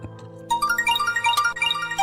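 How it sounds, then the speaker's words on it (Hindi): An incoming call sets a phone ringing with a bright, repeating electronic melody that starts after a brief pause, loud and close, with no talking over it. "दुआ की कॉल आ रही है"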